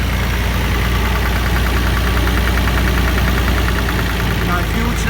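A Nissan Skyline R34 GTR engine with a failing big end bearing runs with a fast, rhythmic tapping knock over the steady engine drone, close and loud throughout.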